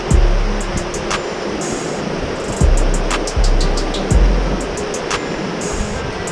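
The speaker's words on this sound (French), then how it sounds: "Mais on est sur un pont submersible. D'où le bruit de l'eau." Water rushing under a submersible bridge at night during a motorcycle road trip: a loud, continuous broadband roar, with deep engine-like pulses rising and fading beneath it.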